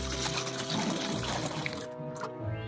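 Warm water pours steadily into a container beside dry ice for a Halloween science activity, a continuous bright splashing trickle that tapers off near the end.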